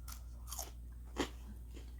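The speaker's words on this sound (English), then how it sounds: "y'all heard that crunch?" Crunchy food bitten during a mukbang, with three sharp crunches spread over about two seconds, the middle bite loudest, close to the microphone over a low steady hum.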